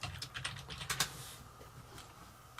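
Quick bursts of keystrokes on a computer keyboard, close and fairly quiet, with a few sharper clicks, all in under three seconds.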